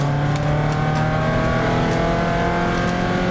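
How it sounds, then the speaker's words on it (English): A Lotus Elise race car engine fires up at Silverstone during 750MC Roadsports qualifying, a loud, steady mechanical drone with a rough idle that holds close and constant throughout. "And the car fires up, pulls away cleanly"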